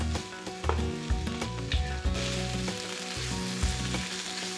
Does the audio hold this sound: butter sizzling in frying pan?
yes